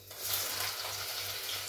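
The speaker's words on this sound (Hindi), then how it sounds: "यहाँ पे मैंने काट दी है क्या बोलते हैं भिंडी की सब्जी, अब लग रहा है छौंका।" Chopped okra for a curry sizzles in hot tempering oil, a dense, steady crackle that runs close and continuous over a low electrical hum.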